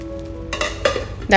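Hot chili powder tempering is poured from an iron pan into Kerala erisseri, giving short bursts of sizzling and clattering metal with a sharp hiss at the end.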